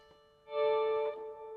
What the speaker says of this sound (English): It's like an old battered Telecaster kind of sound.